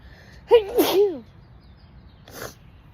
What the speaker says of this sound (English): I think I'm gonna sneeze again.